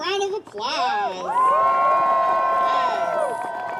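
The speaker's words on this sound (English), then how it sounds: "One more round of applause." At an outdoor rally, a crowd cheers with loud, sustained shouts and whoops, with high voices holding long cries over a background of scattered clapping.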